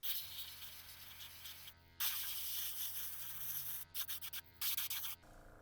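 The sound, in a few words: spraying paint onto a fishing lure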